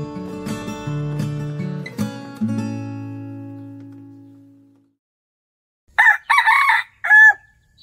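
Several chickens at an agricultural expo's poultry display, including laying hens, crowing and clucking: a long drawn-out rooster crow that fades, then short loud bursts of calls after a pause.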